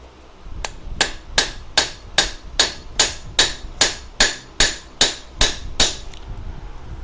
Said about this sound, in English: But I get the world's wimpiest little hammer.